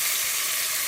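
Marinated chicken sizzles in a hot pan of oil with spices, bay leaf and onion slices for biryani, a steady, close, bright crackle of frying with no voices.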